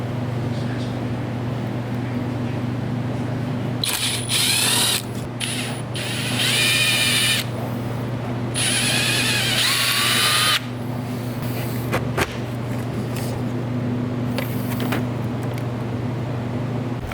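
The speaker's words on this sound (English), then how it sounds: "now we just need to drill our holes to go into our holes" A power drill boring holes in car parts for an LS-swapped Miata, several whining bursts of drilling separated by pauses over a constant low shop hum.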